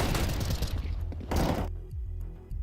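Gunfire in a Counter-Strike match, with a loud burst of several rapid shots in the first second and a half, then quieter mechanical clicks and thuds from the game.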